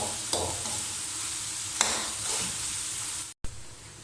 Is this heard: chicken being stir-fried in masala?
yes